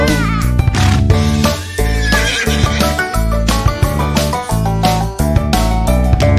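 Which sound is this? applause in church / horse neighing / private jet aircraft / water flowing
horse neighing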